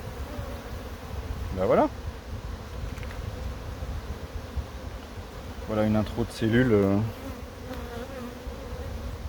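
Honey bees swarm and buzz steadily around an open hive frame heavy with pollen, a dense low hum throughout, while people talk quietly in French over it.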